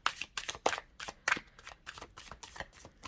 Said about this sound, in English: I'm going to do one more shuffle because that felt